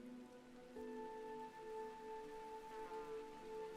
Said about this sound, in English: as we can hear, the rain just kicked in